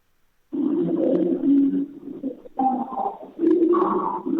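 Pigeons coo in low, throaty, repeated phrases, heard close and fairly loud over a phone line from a railway station, with the muffled background of the station behind them.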